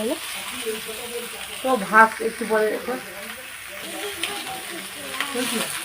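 Tomatoes fry in a pan for a curry, giving a soft, continuous sizzle and hiss beneath someone talking.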